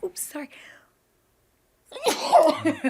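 A sharp sneeze bursts out after a short silence, close and loud, with a bit of voice before it.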